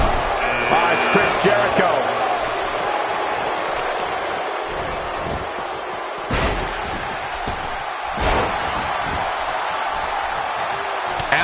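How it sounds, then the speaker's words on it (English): Arena crowd in the WWE 2K18 video game during a royal rumble match, a dense roar under a commentator's voice, broken by a few sharp slam-like impacts. "Listen to this crowd count the next one in."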